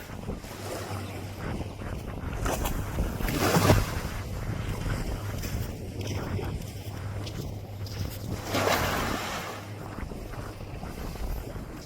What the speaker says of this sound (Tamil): ரெண்டு போட் வந்துருக்கு பாருங்கோ.